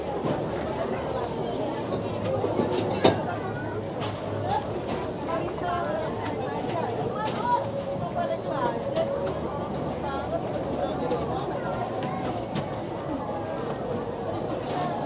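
Crowd bustle fills busy Jakarta Kota train station at night, with a constant hubbub of many voices, footsteps and occasional clacks. People talk throughout, close and in the background.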